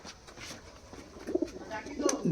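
Rampuri pigeons give soft, low coos, a few short murmuring calls close by over faint background noise.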